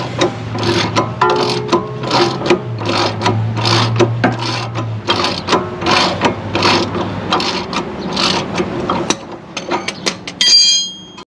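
Ratchet wrench breaking loose and spinning off the bottom suspension bolt and nut on a Dodge Magnum, a long run of rapid, close clicking strokes with a short metallic clatter near the end.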